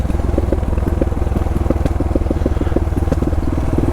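Motorcycle engine rumbling steadily on a ride through mountain roads, a loud, continuous low throb with rapid regular firing pulses and some wind and road clatter, no talking.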